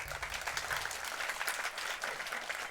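An audience applauding at a religious discourse, a short burst of steady, even clapping from a crowd at moderate distance.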